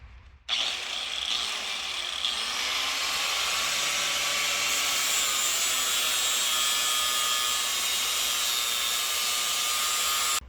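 A power tool grinds steadily against a metal transmission cross member on a Malibu wagon, cleaning it up for welding; a loud, continuous abrasive whir starts abruptly and runs alone without talk.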